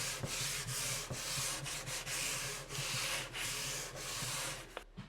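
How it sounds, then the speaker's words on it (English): Steady back-and-forth sanding, 320-grit paper rubbing lightly over a wooden cabinet in even strokes with brief pauses, close and quiet. "I just gave the cabinet a light sanding with 320 sandpaper"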